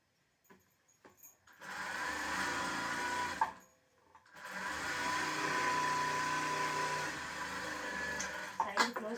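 A sewing machine stitches the side seam of a blouse in two steady runs of fast, even whirring, close and moderately loud, separated by a brief pause, with a few clicks at the start and end.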